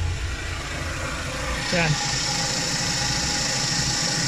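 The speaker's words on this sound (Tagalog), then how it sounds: "Ayan, tapos medyo pino po yung andar ng ating makina." A Suzuki Every Wagon DA64W with a K6A engine idles steadily and smoothly after a cleaned idle air control valve, a continuous close engine hum with someone speaking briefly over it.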